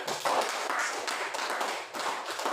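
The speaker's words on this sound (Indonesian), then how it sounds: "tepuk tangan." Clapping in a university classroom after a student's correct answer: soft, uneven bursts of hand claps, fairly quiet and a little distant, with no voices.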